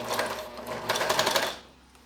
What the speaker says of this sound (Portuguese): Aí eu continuo essa costura.